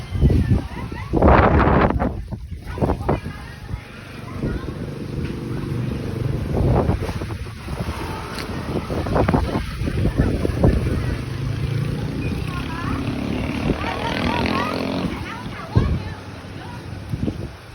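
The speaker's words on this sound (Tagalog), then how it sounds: "Grabe ang lakas na ipo-ipo doon." A strong whirlwind gusts and roars, with heavy wind buffeting the microphone in loud bursts. Excited voices call out over the rushing air.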